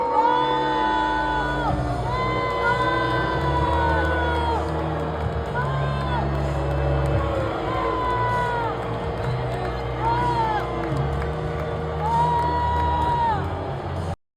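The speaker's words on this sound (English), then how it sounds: "You hear people's reactions." A large arena crowd cheers, whoops and shouts as a speaker walks out for a presentation, a sustained roar of many voices with a speaker talking over it.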